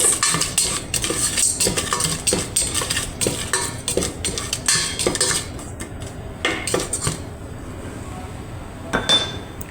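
Ingredients stirred in oil in a pan with a metal utensil, loud scraping and clanking of pan and spoon over a soft background sizzle, busy and continuous, thinning out near the end.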